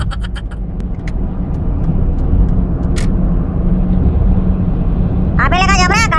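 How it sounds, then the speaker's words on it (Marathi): A tempo vehicle engine running as it is driven, a steady low rumble held under the clip, with people talking over it. "चालव तुम्ही गाडी आता."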